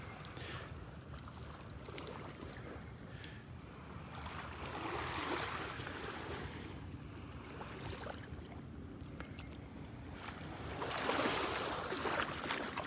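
Ocean waves washing onto the beach at Delnor-Wiggins as the tide comes in on a summer morning, a steady broadband wash that swells in two louder surges, with no talking.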